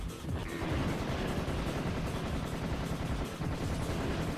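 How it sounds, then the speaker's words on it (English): Tommy gun firing in Serious Sam 1 HD, a dense, continuous burst of automatic gunfire that runs loud and steady through the whole stretch, with no pauses. "Tommy gun."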